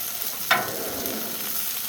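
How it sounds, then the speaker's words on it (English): Venison smashburger patties sizzle steadily on a hot griddle, a continuous close hiss of frying with a brief scrape as they are worked. "And then you can hear it sizzling."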